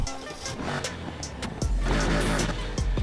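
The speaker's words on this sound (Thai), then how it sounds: "มาฟังเสียงเครื่องยนต์กันว่าจะแต่งใส่เครื่องไหนกันดี" A pickup truck engine in Need for Speed Heat revs in short, rising bursts over a steady low rumble, with sharp intermittent bursts of higher noise.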